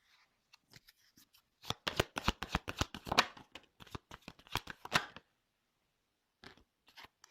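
Tarot cards being shuffled by hand, a close run of sharp, rapid riffling clicks and flutters in quick bursts, pausing briefly before a few softer card taps at the end.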